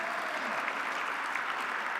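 An audience at an award ceremony applauds with a dense, even wash of clapping that holds steady and fairly loud throughout, with no voice over it.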